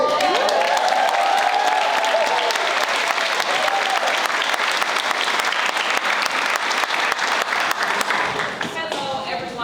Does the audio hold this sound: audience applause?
yes